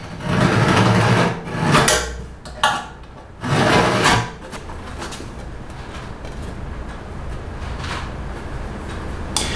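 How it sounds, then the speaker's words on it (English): A straight edge and scribe cutting a deep line into the metal of a car's gas tank, heard as several loud, gritty scraping strokes in quick bursts, followed by quieter steady rubbing and background noise. "we'll put our straight edge up there and scribe a really deep line in it"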